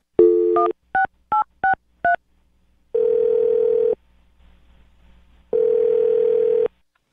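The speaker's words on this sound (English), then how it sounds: "I'm going to dial her phone number right now" Several short beeping keypad tones are dialed in quick succession, followed by two longer ringback tones with a pause between.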